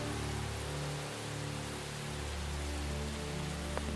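Steady rain falls outdoors over a rooftop terrace where laundry hangs to dry. It makes a continuous, close, even hiss with a faint low hum underneath and no voices.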